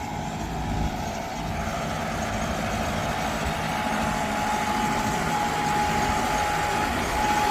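A tractor running steadily on GPS automatic steering across a field, its engine a constant near drone with a faint tonal whine and no change in pace, no voices over it.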